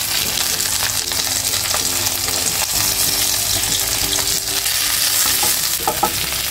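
Stuffed mackerel (bangda) filled with green masala fries loudly in a pan, giving a continuous close sizzle and crackle, with occasional scraping and stirring clinks from a spatula.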